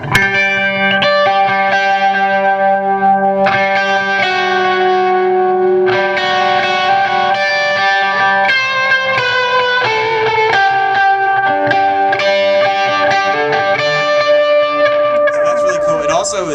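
A JHS Panther analog delay pedal with tap tempo, set in a touring guitarist's pedalboard rig, repeats sustained, distorted electric guitar chords and single notes with echoing trails, loud and continuous throughout.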